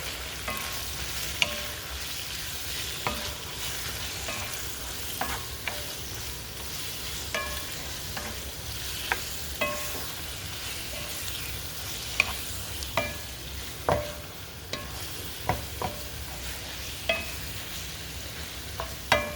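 Green chile being stirred in a pot for green chile stew, a steady low sizzle with repeated soft scraping clicks of a utensil against the pot, continuous and close.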